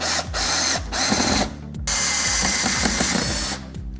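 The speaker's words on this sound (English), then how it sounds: "I'm going to go ahead and use the Craig jig once again to put the 2 holes in each side" A power drill bores pocket holes through a Kreg jig into wood for a rustic outdoor storage bench, sounding in several close, loud bursts of whirring with brief pauses between them.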